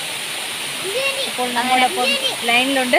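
A waterfall sends a steady, loud rush of water, continuous and broad, while people talk over it close by.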